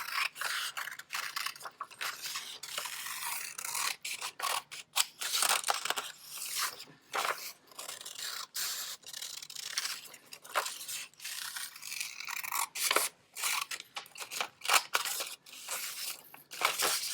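Scissors snip and crunch through paper while cutting out a traced paper hand, a close, irregular series of small cuts and rustles that continues steadily with no talking.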